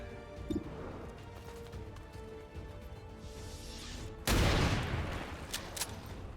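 Incendiary rounds fired from a weapon in XCOM Long War: a sudden loud crashing burst of gunfire erupts after a stretch of quiet ambience, followed by a couple of sharp cracks that trail into lingering noise.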